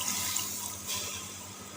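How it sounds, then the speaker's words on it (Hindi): Water poured into a pan of spiced eggplant (brinjal) being cooked, a short steady splashing trickle close by with no talk. "थोड़ा सा पानी शामिल करेंगे।"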